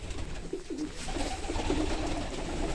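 Pigeons coo softly and repeatedly over a steady background hiss in a cold loft where a breeding pair raises its first chicks, the low throaty calls fairly close.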